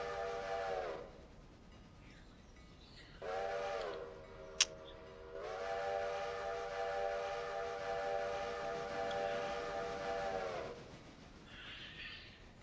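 Steam train whistle in the Railroader game as a logging and passenger train comes into town: a short blast, a pause, then a long sustained multi-tone wail that cuts off cleanly, distant and alone with no talk.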